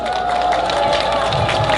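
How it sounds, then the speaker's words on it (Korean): A rally crowd at a street campaign event in Busan's Nampo-dong cheers and claps, a loud, continuous roar of voices and applause with a steady sustained tone running underneath. "뜨거운 박수 한번 보내주십시오"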